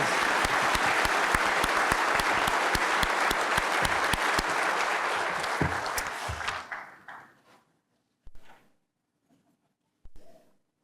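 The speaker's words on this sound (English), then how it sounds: "Let's give our panelists a round of applause" Audience applause for the panelists at a keynote panel of an annual conference, a dense crowd clapping steadily for about six seconds before fading out, followed by a few scattered late claps.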